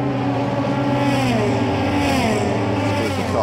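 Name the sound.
Euroformula race cars passing at Monza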